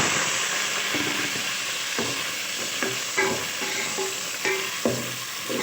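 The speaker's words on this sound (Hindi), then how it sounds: "हम इसमें प्याज डाल देते हैं।" Onions and chilies sizzle steadily in a hot pan, with a spoon stirring and scraping through them every second or so, close and fairly loud, with no talking.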